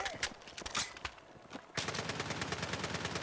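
Rapid gunfire in a PlayStation 4 shooter game, scattered single shots giving way to a loud sustained burst of automatic fire, close and dense, with no talk over it.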